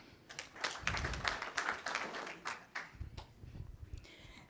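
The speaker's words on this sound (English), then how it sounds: "Please clap for Clarice." An audience at a university event claps for a speaker: a quiet, scattered patter of hand claps from a small crowd, irregular and continuous for several seconds.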